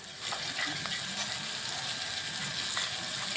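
A continuous, even hiss and crackle of chopped ginger and green chilies frying in hot butter, close by, with faint clicks and no talking.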